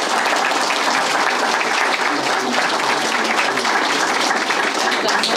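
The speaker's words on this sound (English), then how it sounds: "Please let's give a warm round of applause to them both." Steady, dense applause from a lecture audience at a university graduate student talk, sustained and even at close range for several seconds with no pauses.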